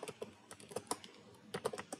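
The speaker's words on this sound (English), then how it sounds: "So let's just type Salesforce" Quick, light keystrokes on a computer keyboard tap in an irregular burst of a dozen or so clicks, close and quiet, with no talking.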